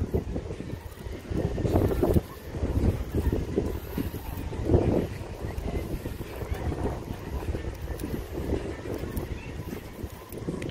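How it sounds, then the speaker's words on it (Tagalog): Moderate wind blows outdoors near open water around sunset, buffeting the microphone in uneven low gusts for several seconds. "Sa subong daw may hangin pero hindi siya gid kusog siyang hangin."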